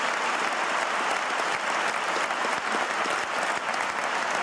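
An audience at a French 2027 presidential election debate applauds with dense, sustained clapping that fills the room evenly throughout.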